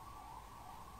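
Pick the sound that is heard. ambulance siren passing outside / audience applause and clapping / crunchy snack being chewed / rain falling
ambulance siren passing outside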